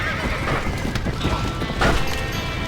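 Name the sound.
horses neighing in burning barn, Red Dead Redemption video game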